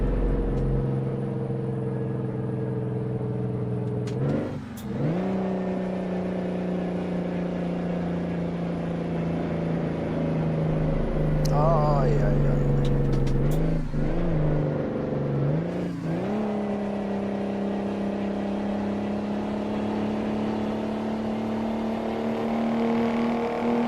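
An old Mack truck engine runs steadily with a deep, loud rumble, its pitch rising and falling through several gear changes, with no talk over it.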